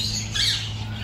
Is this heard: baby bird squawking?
yes